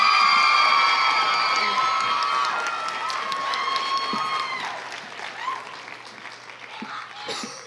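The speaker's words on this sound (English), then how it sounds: "Another round of applause for all of our Ms. Utah for American Strong contestants." An audience applauds and cheers for contestants at a Utah pageant's finals, loud clapping with a few whoops at first that gradually thins and fades toward the end.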